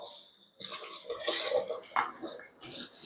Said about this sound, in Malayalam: നമ്മൾ ഒഴിക്കുന്ന ചൂടുവെള്ളം കേട്ടോ.